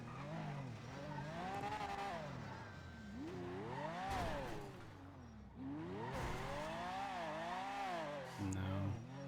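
Engine revving of a car in the GTA V roleplay game, with rising and falling pitch sweeps as the throttle climbs and drops repeatedly, loud and continuous over about nine seconds.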